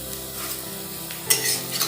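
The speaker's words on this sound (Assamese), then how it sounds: "এটা এটাকে দি এফালে পকৰি ভাজি আছোঁ" Pakoras frying in oil give a steady close sizzle, with a few sharp scraping and stirring clinks near the end and no talk.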